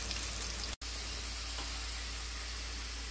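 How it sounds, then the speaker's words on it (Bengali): Potatoes frying in oil for aloo dum, a steady close hiss and sizzle with a brief dropout near the start. "দেখুন, আমার আলু ভাজা হয়ে গেছে"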